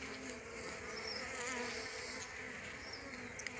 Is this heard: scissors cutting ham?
no